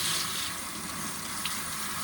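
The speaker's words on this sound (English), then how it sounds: "just hot water spraying on it" Hot water from a pressure sprayer rinses bloodstained white clothing, a steady close hiss of spray with no speech.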